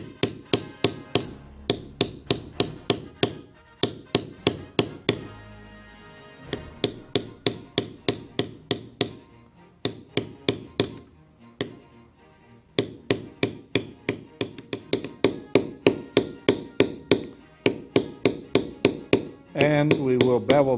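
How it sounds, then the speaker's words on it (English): A large beveler struck with a mallet, tapped along the inside of an outline on leather during stamping. Loud, close, rapid rhythmic taps come in long regular runs with a few short pauses. "we will use a large beveler and we will bevel on the inside"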